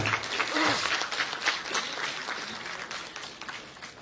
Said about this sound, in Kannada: ಅದಕ್ಕೆ ಅವ್ರನ್ನ ಗೌರವಪೂರ್ವಕವಾಗಿ ಎಲ್ಲರೂ ಚಪ್ಪಾಳೆ ಮುಖಾಂತರ ಸನ್ಮಾನ ಮಾಡೋಣ ಅಂತ.